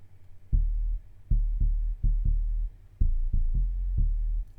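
Deep synth bass line in a hip-hop track made in GarageBand on an iPad, playing a syncopated pattern of punchy low notes with short gaps, loud and alone without any voices.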